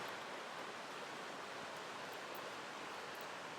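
Steady broadband rushing of a river flowing close to a secluded campsite, a constant hiss-like roar with no breaks, fairly quiet and heard alone without voices.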